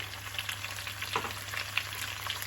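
Zucchini sautéing in a pan, a steady soft frying sizzle with occasional light stirring scrapes, fairly quiet and close, no voices.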